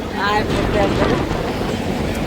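A Company Summer Cool air cooler blows a steady, loud rush of air close by, with people talking over it.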